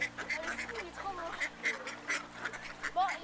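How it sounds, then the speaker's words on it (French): Several ducks quack intermittently at close range, with short nasal calls scattered over an outdoor background and a low steady hum. "On retrouve nos canards"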